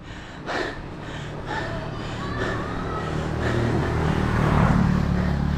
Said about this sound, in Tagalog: Pero hingal na hingal na ako.